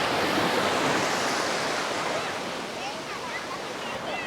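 Ocean surf breaking on Kalapathar beach on Swaraj Island in the rain, a dense, loud, continuous roar of waves rolling ashore one after another, close by and steady, with no voices.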